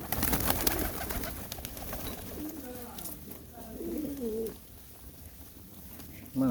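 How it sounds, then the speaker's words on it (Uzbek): Several pigeons coo in low, wavering phrases, mid-distance, with a murmur of movement and background noise, and a voice briefly calls to them at the end. "Mana kaptarlar, janovorlar."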